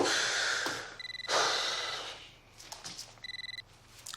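A telephone rings in two short trilling bursts separated by quiet breathing and a soft gasp, fairly close and otherwise alone in a quiet room.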